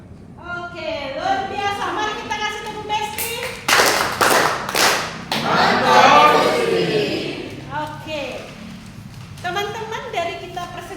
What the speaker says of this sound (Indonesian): Mari kita kasih tepuk Besti.